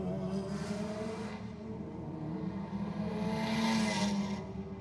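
A little Mazda and a newer Nissan Pulsar launching side by side at Sydney Dragway, engines droning steadily and then rising in pitch as they pull away, heard from a distance with no talk.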